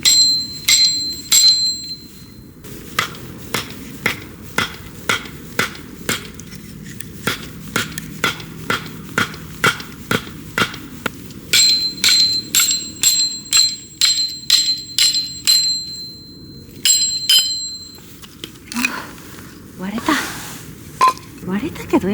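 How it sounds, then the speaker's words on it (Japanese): Steel wedge hammered into firewood at a campsite in the dark, ringing metallic strikes in a steady rhythm of about two dozen close, sharp blows, pausing briefly mid-way, with a creak of splitting wood near the end. "斧で薪割りの予定だったけど斧忘れて、こいつがあったからくさびで割ります"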